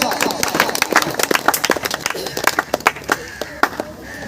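Audience applause at a Government High School event in Hashmat Murali, greeting a guest speaker; a close, dense burst of many hands clapping rapidly and unevenly, filling the whole stretch.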